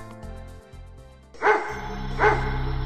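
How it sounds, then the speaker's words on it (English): A dog barks twice, loud and close, over a musical background with a lighter tone earlier. "it heard the sound of guns and barking dogs"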